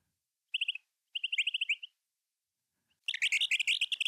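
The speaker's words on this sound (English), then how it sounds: "It's easy to make little baby bird noises with this." Synthesized baby bird chirps made with the Lines plugin come in quick, bright bursts of tweets, two short clusters followed by a denser, busier chatter after a brief silence.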